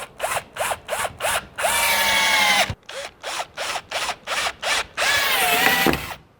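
A cordless power drill drives fasteners into a deck post mounting plate on concrete. It starts with short, evenly spaced trigger bursts, then a longer steady run, and repeats that pattern once more, close and loud.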